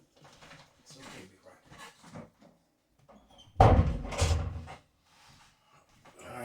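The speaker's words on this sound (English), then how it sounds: "Let me close this door." An indoor door swings shut with one loud thud partway through, surrounded by a person talking before and after it.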